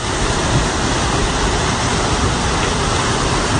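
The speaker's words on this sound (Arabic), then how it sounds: "هذه امواج." Floodwater waves rush through the streets of Jeddah during heavy rain and flooding that sweeps away cars, a loud, continuous broadband roar with no breaks.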